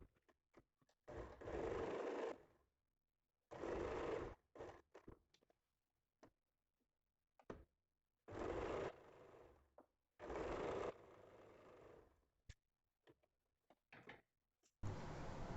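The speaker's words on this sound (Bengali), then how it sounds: "এবার এটাও একইভাবে বসিয়ে আমি সেলাই করে নিচ্ছি।" A sewing machine stitches a neck strip onto a square-neck nightie in several separate bursts of steady whirring, with short pauses and small handling clicks and fabric shuffles in between.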